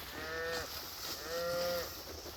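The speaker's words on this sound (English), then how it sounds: "Super satisfying to bring the cows to their breakfast this morning." Two drawn-out cow moos, one after another, moderately close over a steady background hum.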